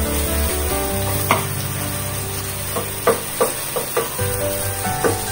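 Chopped tomatoes frying in a pan, a steady hiss of sizzling punctuated by a handful of sharp scrapes and taps from stirring, close and fairly loud with no talking.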